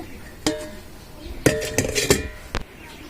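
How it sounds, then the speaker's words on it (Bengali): A dish of salt-and-turmeric-marinated fish gets covered in a kitchen, with a few sharp clinks of metal or glass lids and pots, spaced irregularly, and soft background room noise between them. "আর আমরা এখন ঢেকে রেখে দেব।"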